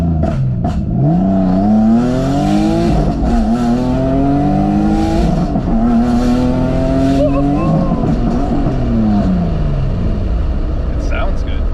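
A Nissan 350Z with a rear-mount turbo accelerates hard from inside the car. The engine drones loudly and rises in pitch through several gear changes with turbo whoosh, and voices are heard faintly under the engine.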